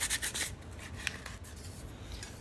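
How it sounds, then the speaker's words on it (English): Sandpaper rubbing the inside of a freshly drilled hole in wood, a soft, close raspy scrubbing with a few quick strokes at the start, then quieter, steadier rubbing. "I am going to touch it up just a little bit with the sandpaper"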